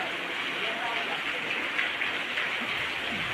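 Rain falling near Ghoba village in Savarkundla taluka, Gujarat, a steady broadband hiss of close, fairly loud rainfall holding constant with no pauses.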